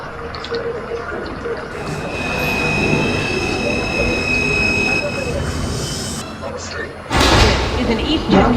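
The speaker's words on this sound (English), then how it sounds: "Is an Eastchester-bound 5 local train" An MTA R142 subway train on the Eastchester-bound 5 local rumbles loudly from on board, with squealing wheels, a high whine and a heavy clatter near the end, while a voice talks over it.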